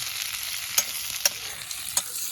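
Onions and chicken fry in a pan, a steady close sizzle broken by three or four sharp clacks of a spoon stirring against the metal, with no talking.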